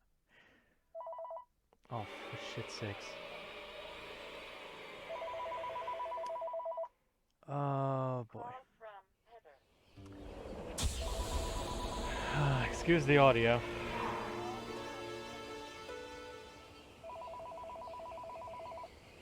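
A telephone rings repeatedly for an incoming call inside a Shadow of Destiny game scene, loud electronic bursts between pauses, with a man muttering and reacting over it.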